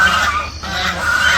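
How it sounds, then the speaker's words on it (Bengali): Ducks calling in a village yard, a steady busy chorus of quacks and clucking calls that continues throughout, fairly close and loud, with no talk. "হাঁসগুলো কি ডাকাডাকি শুরু করছে"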